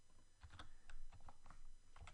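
Keys tapped on a computer keyboard while entering data into an Excel spreadsheet, a quiet, irregular run of close clicks in small bursts with short pauses between them.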